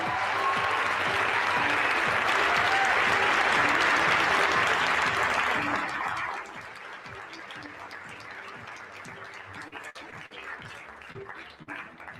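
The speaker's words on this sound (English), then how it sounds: "Let's give Caitlin another big round of applause" A formal dinner crowd at the White House Correspondents' Association dinner applauds an award winner, loud dense clapping for about six seconds before dropping to scattered claps and a low murmuring tone.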